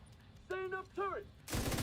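A turret opens fire in a video game: two short, warbling electronic tones come first, then a loud, dense burst of rapid gunfire fills the last half-second, close and unbroken.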